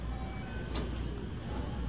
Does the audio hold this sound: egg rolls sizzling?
no